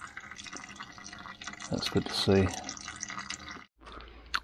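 Recycled cooking oil trickling through two filters in series into a catch pan, collected to run a salvaged swamp tractor; a steady drip and fill under a man's brief speech.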